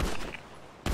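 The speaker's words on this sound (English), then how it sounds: "They're firing on us from the west." Gunfire in a police shootout video game set on a ski lift roof at Mt. Chiliad, with a sustained burst of shots followed by a sharp, loud shot at the end.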